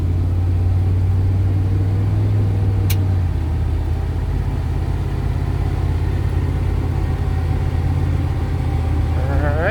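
A 1993 Chevrolet K1500 WT pickup accelerating on an open road toward 45 mph, a steady close engine rumble and road drone whose low hum shifts as it gains speed.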